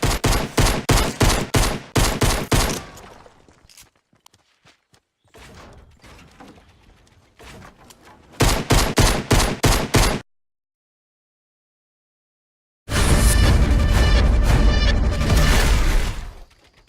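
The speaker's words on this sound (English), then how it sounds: "So the single shot pistol comes in at the number 3 spot." Single shot pistol gunfire in Fortnite: bursts of rapid sharp shots come in loud, repeated volleys separated by quieter gaps and near silence, with a dense, sustained final barrage.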